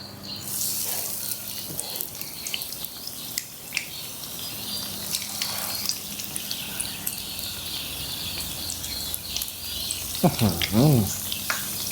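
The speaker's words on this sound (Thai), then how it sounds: "แล้วเราก็ลงทอดทอดเลยค่ะเรื่อยๆเลยค่ะ" Marinated pork hip slices deep-fry in hot oil for crispy Thai-style pork, giving a steady, close hissing sizzle throughout with a few brief clinks near the end.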